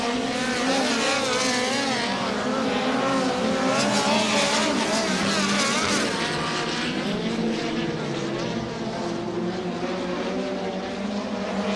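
Winged sprint cars roar through hot lap qualifying at Angell Park Speedway in a World of Outlaws Sprint Car Series event, loud continuous engine howl with shifting pitch as cars pass, steady throughout.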